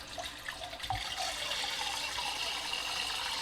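A faucet runs steadily through a Vortopt T2 stainless steel faucet water filter, a close, continuous hissing rush of water into a glass after a brief clunk at the start, with no talking.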